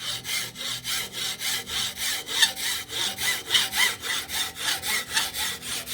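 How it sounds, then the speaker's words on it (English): Hacksaw cutting through a homemade wooden tent pole in steady, even back-and-forth strokes, loud and close, with no talking. "Using a hacksaw for the fine teeth"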